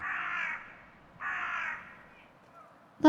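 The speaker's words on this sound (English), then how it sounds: "Oh, and we have crows." Crows caw in the video game Skyrim, two long harsh calls spaced about a second apart at moderate distance, with a brief louder sound cutting in at the very end.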